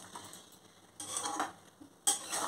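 Mango being stirred with sugar and jaggery in a pan, a spoon scraping through the thick mixture in two short strokes over a faint sizzle, close and alone.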